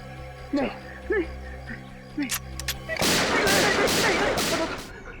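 Someone speaks briefly, then a loud burst of rapid gunfire erupts, several sharp shots blending into a continuous roar.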